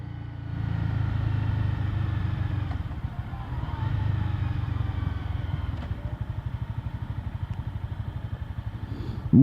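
A motorcycle engine drones steadily while riding, with a low throbbing rumble that settles into a rhythmic pulsing idle toward the end.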